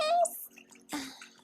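Wine poured into a wine glass makes a brief liquid splash and trickle, heard close and soft right after a voice.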